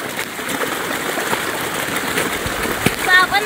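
Clothes being washed by hand in open farm fields, with water splashing and sloshing steadily at close range, a few sharper splashes near the end, while people talk nearby.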